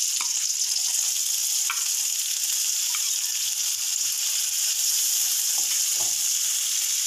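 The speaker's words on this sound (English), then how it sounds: "Gently fry it in the oil." Chopped ginger and onion, with green chilli, sizzle steadily in hot oil in a pan, a constant close frying hiss with a few faint stirring clicks and no voices.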